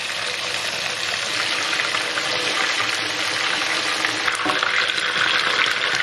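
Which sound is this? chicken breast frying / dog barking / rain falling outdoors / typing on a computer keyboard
chicken breast frying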